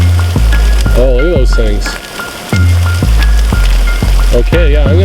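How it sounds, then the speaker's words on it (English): Hail falls during a hike on Mount Conkle near Summerland, British Columbia, a steady crackling patter of pellets close around the hiker while a person talks excitedly over it. "the hail's getting bigger."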